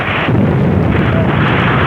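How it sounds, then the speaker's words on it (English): Rocket engines roar at liftoff, a loud, dense, continuous rumbling blast that fills the whole clip without letting up. "We have a liftoff. All engines building up thrust."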